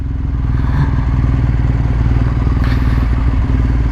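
A 2017 BMW R1200 GS adventure motorcycle rides along, its boxer engine giving a steady, loud, low rumbling drone with a faint rattle, heard close up without talk.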